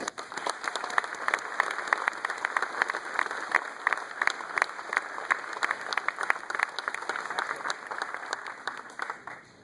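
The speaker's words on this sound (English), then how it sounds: "a nice round of applause for the honorary Steve Stepanek" Audience at an evening political gathering applauds an honorary guest, a crisp, busy patter of many hands clapping steadily with a faint steady hum in the room.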